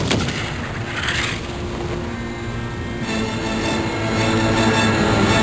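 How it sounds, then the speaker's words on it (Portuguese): A naval artillery salvo from the sinking battleship Hood, heard as loud, dense rumbling bursts of gunfire blending into a continuous roar with no voices. "os atiradores continuavam lançando a última salva de artilharia"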